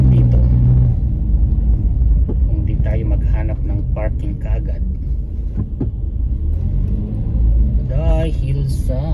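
Car engine idling and creeping in congested road traffic during a marathon, a low rumbling drone throughout with someone talking over it near the start and end.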